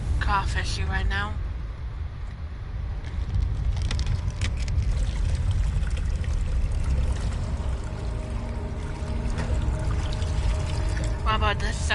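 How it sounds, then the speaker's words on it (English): Liquid drips and trickles steadily through low, hollow ambience in Amnesia: The Dark Descent, with a few brief vocal sounds near the start and end. "What about this sound? Doesn't that sound relaxing? That dripping?"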